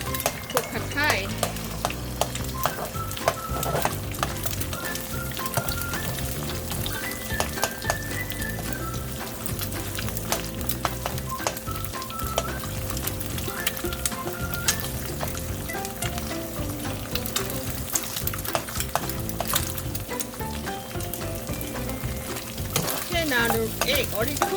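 Egg frying in a pan for pad Thai, a steady close sizzle with repeated scraping and clinking of a utensil stirring against the pan throughout.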